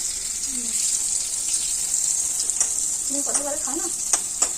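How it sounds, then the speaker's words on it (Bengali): Slices of pointed gourd (potol) fry in a pan with a constant high sizzling hiss and a few stirring clicks, while faint voices murmur in the background. "কত পটল ভেজেছ"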